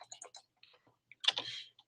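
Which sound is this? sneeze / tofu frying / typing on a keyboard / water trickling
typing on a keyboard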